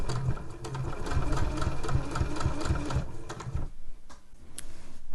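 A domestic sewing machine stitches a zip tote, running in steady rapid bursts of needle clatter for about three and a half seconds, then stopping and leaving quiet handling noise.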